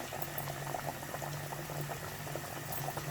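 Fish frying in hot oil in a pan: a steady, dense bubbling sizzle that carries on without a break. Faint and even, with no voices.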